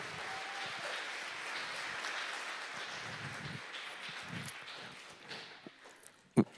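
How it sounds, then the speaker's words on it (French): Audience applause at a special children's presentation, a broad patter of many hands clapping that gradually thins and fades, ending in a few isolated claps and thumps. "Vous applaudissez parce que vous êtes content que je continue pas l'histoire"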